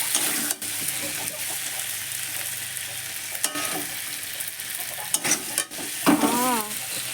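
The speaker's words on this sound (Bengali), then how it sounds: "দেন আমার আলু ভাজা ভাজা হয়ে গিয়েছে।" Potatoes frying in a pan, a steady loud sizzle broken by occasional stirring scrapes and clatters, close by with a brief voice near the end.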